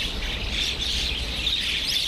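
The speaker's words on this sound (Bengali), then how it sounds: "এই দেখেন কত পাখি চলে আসছে।" Dense chorus of many birds chirping continuously as a flock gathers to be fed, bright overlapping tweets close by, steady throughout with no talking.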